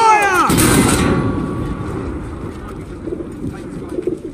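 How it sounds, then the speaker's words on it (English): Artillery fires in the Battlefield 1 video game: a single heavy, loud boom after a brief high whistle, followed by a long, low rumbling decay that fades under faint background noise. "All artillery! Fire!"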